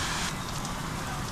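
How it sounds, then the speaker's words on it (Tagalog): Heavy rain pours down in Dawadmi, Saudi Arabia, a steady dense hiss of drops filling the whole short stretch without a break. "lakas ng ulan."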